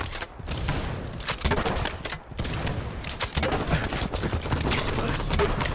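Rapid bursts of automatic gunfire in Halo 5: Guardians, dense crackling volleys repeating across the whole stretch with thuds mixed in, loud and close.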